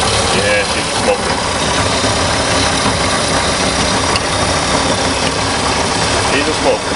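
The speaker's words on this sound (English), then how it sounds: "Good American engine." A Chevrolet Monza engine idling after a cold start, running rich and smoking from worn piston rings. A loud, close, steady, rough idle rumbles throughout, with a voice talking over it.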